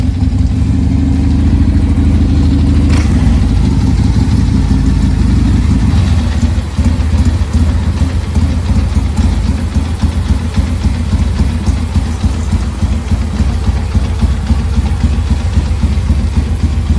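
A 1982 Harley-Davidson motorcycle that sat in water for years runs at a steady idle, loud and close, with a low throbbing engine rumble that continues unbroken with no talk over it.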